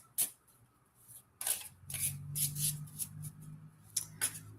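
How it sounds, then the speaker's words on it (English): A thick deck of tall oracle cards is shuffled by hand in a quiet room, with short papery riffles and slides, a few louder bursts and a soft low hum under the shuffling. "It's kind of hard to shuffle."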